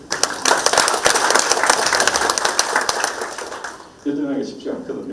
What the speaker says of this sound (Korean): 박수 한번 보여주시면